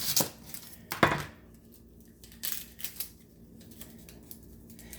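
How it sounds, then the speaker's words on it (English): A kitchen knife chops the end off a peeled onion on a cutting board, giving a few sharp, close knocks and scrapes spaced apart, with quieter handling clicks between them. "I'm going to cut the other end off to make it faster."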